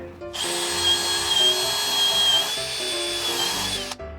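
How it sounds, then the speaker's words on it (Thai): A power drill fitted with a plug cutter bit bores into pine wood, a loud steady whine starting abruptly, holding for about three and a half seconds with a slight drop midway, then stopping sharply. "พอเราเจาะลงไปเราก็จะได้คล้ายๆปลั๊กไม้แบบนี้ขึ้นมา"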